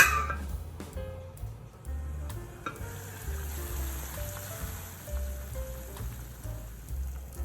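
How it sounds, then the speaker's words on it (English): Cabbage in about 200 ml of water simmers in a pot on the stove, a steady close bubbling and sizzling patter under light background music. "Simmer for about 2 minutes."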